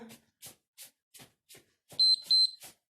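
Two short, sharp electronic workout-timer beeps sound between a series of soft rhythmic footfalls or breaths during a cardio warm-up.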